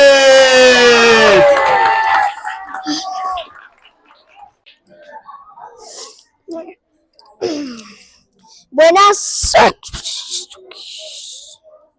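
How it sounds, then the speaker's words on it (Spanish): Children in a school storytelling festival audience in Manizales let out a loud, high cheering shout up close, followed by scattered softer calls and voices. "Van a recibir con un fuerte aplauso a Ángel Mateo López."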